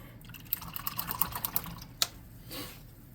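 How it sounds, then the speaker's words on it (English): A paint brush is rinsed in a water cup while painting a custom tabletop monster miniature, giving a run of soft close clicks, taps and drips, one sharper knock near the middle, then a brief swish of liquid. "So let me wash my brush."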